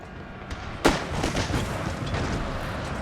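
Pistols fire in a Total War: Thirty Years War battle, with a few sharp reports over the rumble of distant fighting. One loud shot stands out above the rest.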